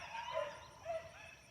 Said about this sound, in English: Listen to that puppy.